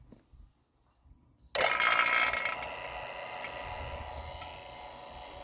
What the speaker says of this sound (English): you want to go ahead and turn on your vacuum.